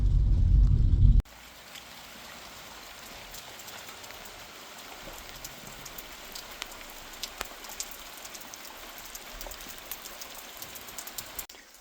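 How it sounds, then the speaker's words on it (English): Rain falls steadily outdoors at a self-build garage site, a soft continuous patter with scattered louder drops hitting nearby surfaces, following a brief loud low rumble at the start; no talking. "So the rain isn't stopping."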